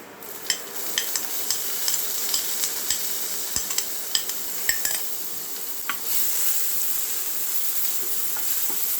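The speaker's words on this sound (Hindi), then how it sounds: "ये थोड़ा सा जब ब्राउन हो जाने तक इसको भूनेंगे" Onions sizzle in a pan with garlic while a utensil taps and scrapes in quick irregular clicks, then the frying settles into a steady hiss.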